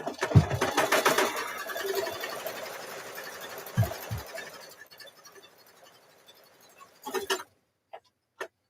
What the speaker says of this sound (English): So I'm going to run that stitch because it'll run that stitch